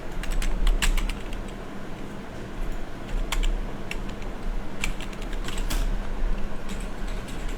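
A Gmail password gets typed on a computer keyboard: a quick run of key clicks, uneven and close, over a steady low hum, with no talk.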